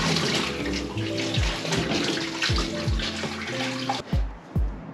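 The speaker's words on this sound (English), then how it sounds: "So now I'm gonna fill it up with water and see if it leaks." Water pours steadily into a Harbor Freight heated parts washer tank, a close, continuous rushing splash with a few low knocks and thumps, and no voices.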